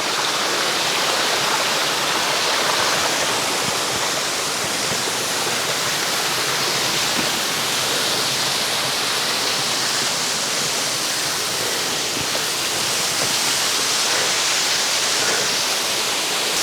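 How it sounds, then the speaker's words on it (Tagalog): Digisit Falls in Aurora pours in a steady, loud, unbroken roar of falling water, a dense broadband rush with no voices over it. "welcome sa Digisit Falls. Ang taas at ang linaw ng tubig."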